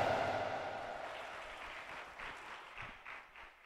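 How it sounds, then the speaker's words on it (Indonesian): A graduation and Maulid gathering at an Islamic boarding school claps for its students, a soft, somewhat distant wash of applause that thins out and fades over a few seconds. "tepuk tangan untuk anak kita."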